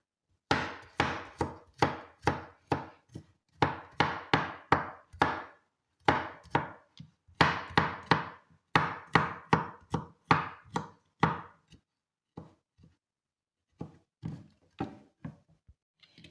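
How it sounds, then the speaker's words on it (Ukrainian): Garlic cloves finely chopped with a knife on a board, rapid bursts of crisp close taps in quick runs that slow into a few scattered chops toward the end, with no talking. "І я його покришу дрібненько"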